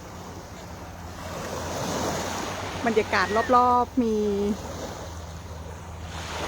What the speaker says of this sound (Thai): ตอนนี้เราอยู่ที่ทะเลจังหวัดระยองจ้า ให้ทุกคนดูบรรยากาศเนาะ